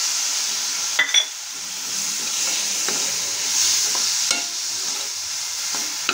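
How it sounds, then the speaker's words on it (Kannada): Chopped onion and tomato fry in a pan over a medium flame, giving a steady close sizzle broken by a few sharp scrapes and clicks of a spoon stirring against the metal. "ಮಿಡಲ್ ಫ್ಲೇಮಲ್ಲಿ ಇಟ್ಟು ಫ್ರೈ ಮಾಡಿಕೊಳ್ಳಿ"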